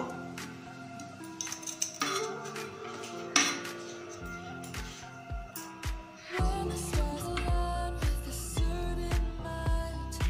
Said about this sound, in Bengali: এরপর একটা খুন্তি নিয়ে কাটলেটটা ভালো করে শেপ নিয়ে নেব।